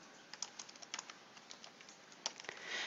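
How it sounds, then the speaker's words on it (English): Typing on a computer keyboard during a children's words-per-minute typing test, a light, irregular patter of close key clicks with a few sharper strikes, heard alone with no talking. "So I'm going to type in The Ugly Duckling."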